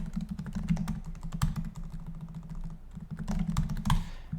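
Rapid typing on a computer keyboard, a steady patter of close, crisp key clicks with a few louder strikes, heard alone with no talking.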